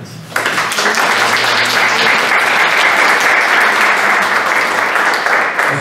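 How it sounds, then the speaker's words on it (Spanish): A strong round of audience applause at a book presentation on pandemic and education, starting abruptly and holding steady and loud for several seconds without talk. "para quienes pido un fuerte aplauso"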